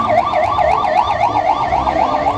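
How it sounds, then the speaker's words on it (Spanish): An ambulance siren wails at night during flooding, its rising and falling tone cycling steadily and loud over low road rumble, close by and with no talk. "Ahí viene una ambulancia."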